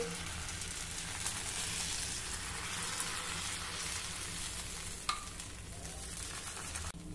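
Dhirde batter sizzles steadily on a hot tava, a constant crackling hiss with a few faint clicks and taps, no voices present.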